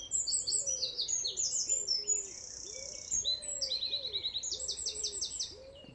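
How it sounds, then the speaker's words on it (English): Several birds sing and chirp in overlapping, continuous high-pitched phrases, with a lower cooing call repeating underneath, fairly close in a quiet outdoor meadow by water, with insects around. "You can really hear those birds now."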